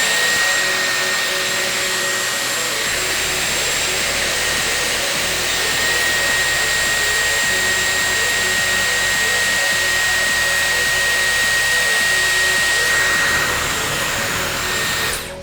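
Dyson Airwrap hair styler blowing hot air while beach waves are being styled: a loud, steady whooshing roar with a faint whine that runs the whole time and shifts slightly in tone as it is moved.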